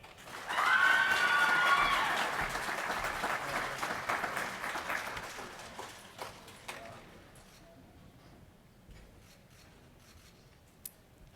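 Applause for heavy vehicle technology graduates at a graduation ceremony, a loud burst of clapping from a crowd that swells quickly, then fades gradually into scattered claps and room noise.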